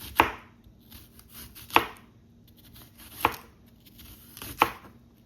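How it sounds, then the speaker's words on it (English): Seasoning being chopped with a knife on a cutting board for Jamaican tinned mackerel, with four distinct sharp knife strikes spaced about one and a half seconds apart, close and clear against a quiet background. "Cut up the seasoning on the board."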